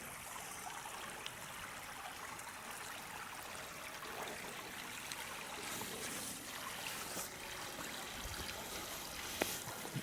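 A clear creek runs between snowy banks, its water flowing and trickling in a steady, even wash that stays faint and unbroken throughout, with no voices.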